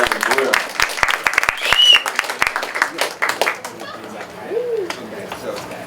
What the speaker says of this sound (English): Like, another round of applause for Megan, for real.